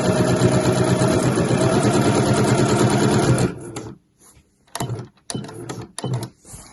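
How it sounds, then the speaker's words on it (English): A sewing machine stitches the zip pocket of a weekender bag with a loud, steady whir for about three and a half seconds. It then stops and runs again in a few short, close bursts. "I'm sewing on top of the red line. I'm going to do a back stitch, and then I'm going to come all the way around"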